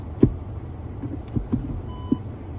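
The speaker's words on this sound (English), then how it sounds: "If we put the vehicle into reverse" A Skoda Octavia's reversing warning sounds when the car is put into reverse: a few short, faint electronic beeps spaced apart in a quiet cabin, with no talk.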